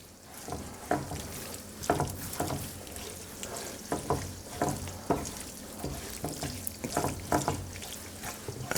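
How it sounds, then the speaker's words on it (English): Linguine is tossed into a clam sauce in a pan on the stove, producing wet squelching and sizzling sounds in repeated rhythmic bursts, close by. "let's mix it up with that beautiful sauce that we had going"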